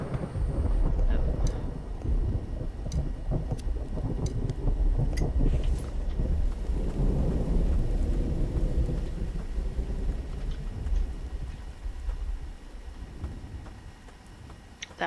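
Thunderstorm with steady rain, low thunder rumbles rolling through the heavy downpour, with brief talk underneath.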